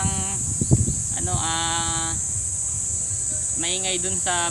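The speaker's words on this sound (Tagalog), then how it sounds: "Huni po ng kuliglig yun." Crickets chirp in a steady high band throughout, with loud bleating animal calls, sheep or goats, in bursts near the start and end, and some voice sounds mixed in.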